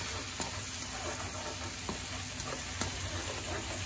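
Two tablespoons of garlic sizzle steadily in a hot pan over high heat, with a continuous frying hiss and a few faint scrapes of stirring.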